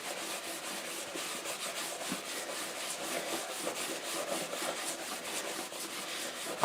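Rust remover being rubbed by hand onto a Bridgeport milling machine part, a steady close scrubbing friction that runs continuously with even rhythmic strokes and no talk.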